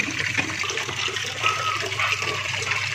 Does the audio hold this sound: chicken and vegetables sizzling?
no